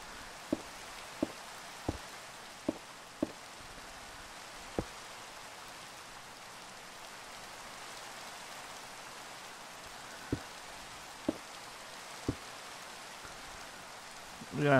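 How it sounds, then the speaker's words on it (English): Steady rain hissing across a surface, with sparse sharp drips and taps landing irregularly throughout. "Oh crap, it was raining."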